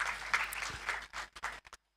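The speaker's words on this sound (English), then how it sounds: "Let's give a round of applause to that person." An audience at a B.Tech batch inauguration program bursts into applause, a thick wash of clapping that holds for over a second, then thins into a few scattered claps and stops.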